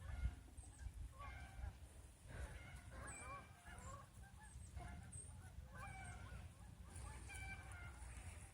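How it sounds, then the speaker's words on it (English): Geese honking from a farmyard in winter, mixed with chickens, a steady run of nasal honks and calls that repeats through the whole stretch over low outdoor rumble. "Oh, I can hear the geese too."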